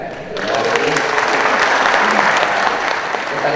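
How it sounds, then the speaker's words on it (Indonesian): An audience of housing ministry officials breaks into steady, dense applause that stays loud and even throughout, with some voices mixed in. "Tepuk tangan ya."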